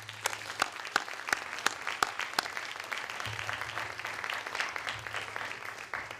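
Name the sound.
applause for moot court finalists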